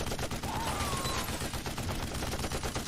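Gunfire in the animated film The Dark Knight Returns Part 1 (2013), a run of sharp repeated shots over a dense, busy soundtrack.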